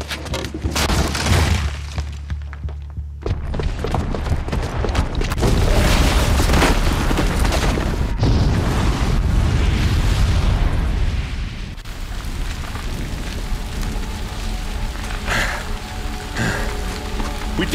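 A bomb explodes in Horizon Zero Dawn with a heavy, deep boom, followed by a long roaring, crackling rumble and a dense wash of falling debris that slowly fades.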